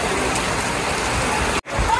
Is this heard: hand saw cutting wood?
no